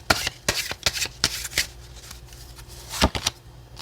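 Oracle cards are shuffled by hand in a series of crisp riffling bursts with short pauses between them, close up and clear, no talk.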